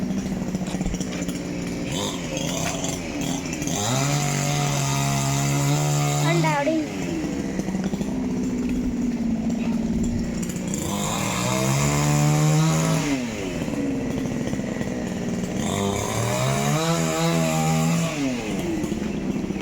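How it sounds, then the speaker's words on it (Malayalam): A chainsaw cutting a tree revs in repeated bursts, rising and falling in pitch as it cuts, while people talk nearby over the engine noise. "മരം മുറിയെന്ന് എടുത്തരാം"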